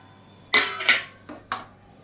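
Whole cloves pounded in a mortar: four sharp, hard knocks with a slight metallic ring, the first two close together and the last two spaced apart, in a quiet room.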